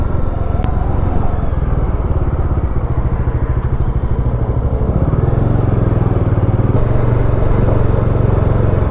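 A Bajaj Dominar 400 BS6 motorcycle on the move gives a loud, steady engine drone with road rumble throughout. The engine tone shifts slightly partway through, and there is no talk.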